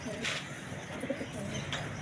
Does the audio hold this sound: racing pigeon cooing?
yes